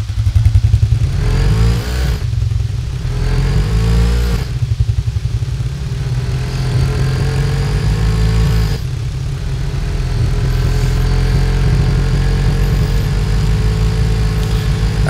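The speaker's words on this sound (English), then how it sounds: "the last but not least thing I want to try out is just the top speed of this" An ATV in the video game Arma 3 runs flat out down a runway, its engine droning loud and close with brief dips as it shifts gears before settling into a sustained high-speed roar.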